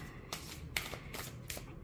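A card deck being shuffled by hand, with several quick riffling bursts at a steady rhythm over a faint hum, close and fairly quiet.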